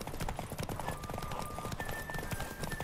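Rapid hoofbeats of a horse galloping in The Witcher 3, a steady fast clip-clop rhythm close up with faint tonal game sounds in the background.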